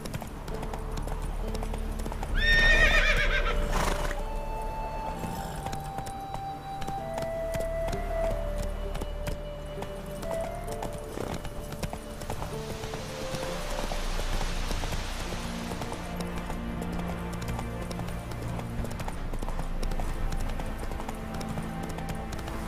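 Horse hooves clip-clop at a gallop in The Witcher 3 video game, a steady rapid rhythm running throughout, moderately loud, with a brief whinny-like burst early on and faint background game ambience.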